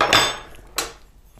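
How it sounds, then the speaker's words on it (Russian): Fresh eggs are cracked for milk pancake batter, with two crisp taps against a bowl rim about half a second apart, close and clear, with no talking. "Также я разбиваю 3 яйца."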